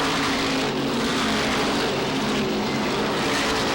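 SK Modified race cars running a 50-lap feature at Waterford Speedbowl, a short oval, make a dense, continuous engine roar at steady loudness, with no voices heard.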